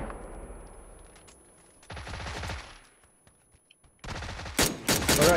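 Bursts of rapid gunfire from a shooter video game, close and loud: a sustained volley early on, then sharp broadband shots clustering after a quiet stretch, with more dense firing toward the end.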